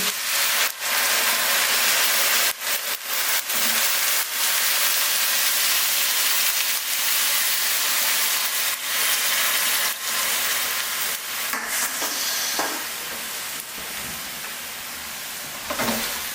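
Beer poured into a hot pan of chicken cacciatora over high flame, giving a loud, steady, steamy hiss and sizzle that holds throughout with crackles, then eases slightly toward the end, no talk.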